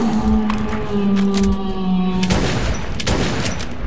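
Gunfire from Metro 2033 gameplay breaks out in loud, close rapid shots after a few seconds of a steady droning tone.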